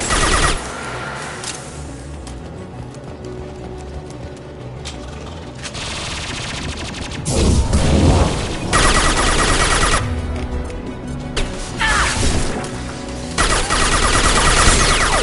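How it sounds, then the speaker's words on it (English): Heavy gunfire in the video game Mass Effect 2, bursts of automatic fire coming and going over a busy, rumbling battle backdrop, louder surges between quieter stretches. "Taking heavy fire!"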